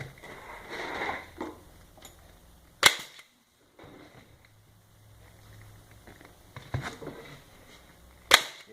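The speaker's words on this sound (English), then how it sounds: "And I staple those, keeping those at the edge of the hole." A staple gun fires into vinyl upholstery on a leg extension cylinder pad, giving three sharp, loud snaps spaced a few seconds apart, with quieter handling and rustling of the material between them.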